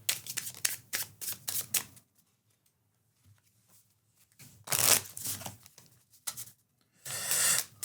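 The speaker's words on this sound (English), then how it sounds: "make sure this is shuffled real nice" A deck of cards shuffled by hand for the Fliptown solo card game: rapid riffling bursts close up, a quiet pause, then more riffles and a final longer riffle.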